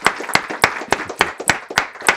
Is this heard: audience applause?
yes